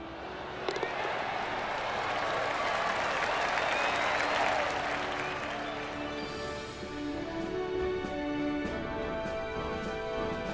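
A golf tournament crowd in the video game PGA 2021 breaks into loud, sustained applause that swells and then settles into steady clapping, with music layered underneath.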